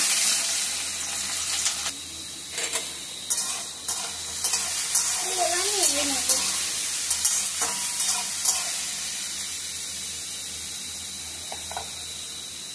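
Shredded cabbage hisses in oil and ghee with a five-spice tempering in a kadai, a sustained bright sizzle broken by scattered spatula scrapes and clinks, close and even throughout.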